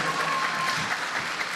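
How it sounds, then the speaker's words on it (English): Youth audience at a TEDx talk clapping in a brief, even burst of applause, moderately loud and steady for its short length, with no speech over it. "Please, a round of applause."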